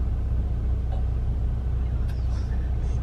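A truck idles and creeps back and forth nearby, giving a continuous low rumble with a few faint higher squeaks on top.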